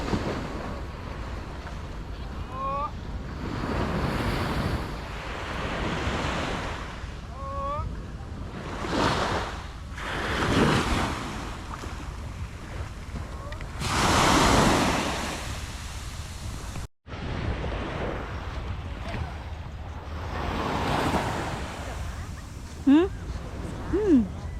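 Ocean waves of the South China Sea roll onto the beach at La Union, Philippines, in repeated broad washing surges with steady wind noise, while faint voices come and go in the background.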